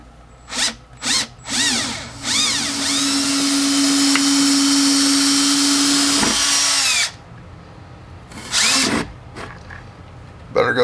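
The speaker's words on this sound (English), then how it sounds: "I've got a long drill. I can go through that too." A long power drill whirs in a few short bursts, then runs steadily for several seconds as it bores through wooden framing, and a few more brief bursts follow.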